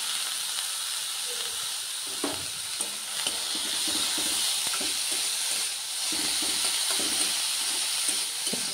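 Boiled banana flower being stir-fried with chilli powder and turmeric in a pan, giving a steady close sizzle and hiss with scattered scraping stirs throughout.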